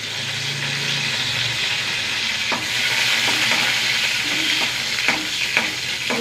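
Mustard seeds, urad dal and two dried chillies frying in coconut oil with curry leaves, a constant close sizzle with occasional pops and crackles and faint stirring, without talk.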